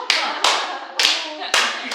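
Several people clap their hands in a church setting, four loud, sharp claps spaced roughly half a second apart, close and dry, each with a short ringing tail.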